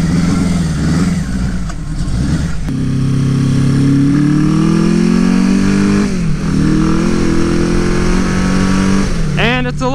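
A Suzuki GS850 scrambler motorcycle is ridden through snow, its engine droning loud and steady close to the microphone. The pitch rises and falls as the throttle changes, with a brief dip and a quick rev toward the end.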